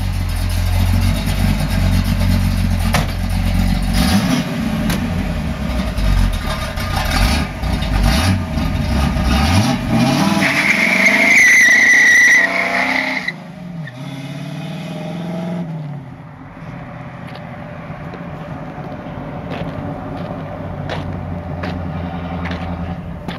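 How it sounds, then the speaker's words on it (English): A rebuilt 1970 Pontiac Trans Am pulls away, its loud engine revving hard with a brief high tire squeal before the car recedes and its sound fades into the distance. "We're just gonna do a little drive away"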